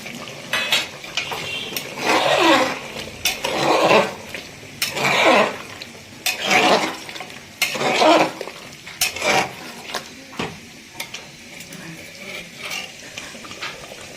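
Chopped tomatoes and mutton cooking in a pan over a high gas flame, with repeated scraping and clattering strokes of a spoon or spatula against the pan. The sounds come in a steady rhythm over a constant frying background.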